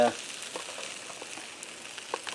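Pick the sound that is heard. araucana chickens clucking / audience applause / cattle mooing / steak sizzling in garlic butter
steak sizzling in garlic butter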